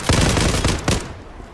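Tommy gun firing in the shooter game Zula, an old-style submachine gun: two loud, close bursts of rapid automatic shots, the second shorter, then a fading tail.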